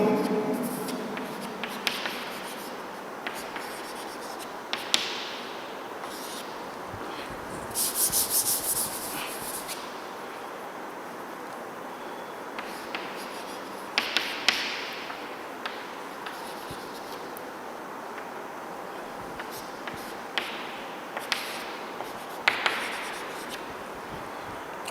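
Writing on a board during an organic chemistry lecture, with steady scratchy rubbing strokes and occasional taps, fairly faint and close with brief pauses between strokes.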